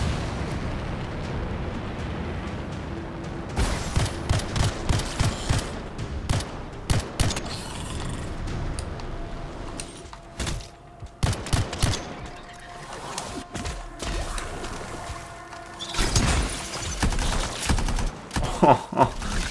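Gunfire and explosions in the video game Anthem, with rapid bursts of weapon shots and heavy booming blasts layered densely over a rumbling background, loud and close throughout.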